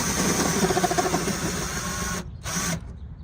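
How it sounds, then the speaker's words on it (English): A drill countersinks freshly drilled holes while fitting a dry flush sealing toilet, producing a close, steady whirring grind that cuts off abruptly, briefly resumes, then stops. "So we're going to countersink these."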